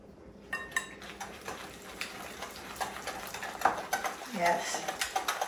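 Batter is whisked in a bowl, with quick, continuous clinking and scraping strokes of the whisk against the bowl, close and moderately loud, while faint talk is heard in the background.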